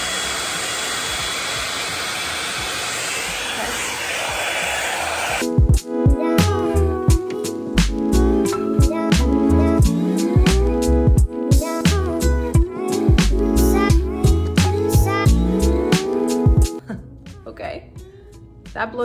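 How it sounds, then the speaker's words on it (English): A Revlon One Step hair dryer brush roars steadily through a blow-dry, first as an even hiss, then set to high with the motor note wavering as the brush moves through hair, while someone talks over it. "That blow dried my hair really fast."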